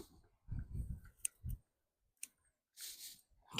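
Fountain grass stems being cut back with shears, a few crisp snipping and rustling clicks, close and quiet, with short pauses between cuts.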